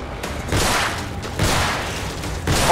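Gunshots in The Evil Within horror game: a few heavy, booming shots spaced about a second apart, loud and reverberant over a dense, noisy background.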